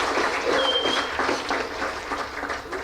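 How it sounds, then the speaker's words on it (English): A crowd at a Kenyan corporate golf day prize-giving claps together in sustained, fairly close applause that keeps an even level for a few seconds, with no talk on top. "Can we give a big clap to Communications Authority,"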